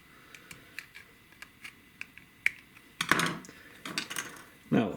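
A flat-tip screwdriver pries at a Scion xB key fob housing, making a string of faint, sparse plastic ticks and clicks that build to a few louder cracks and snaps near the end.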